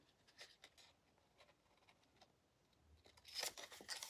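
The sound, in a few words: scissors cutting paper card edges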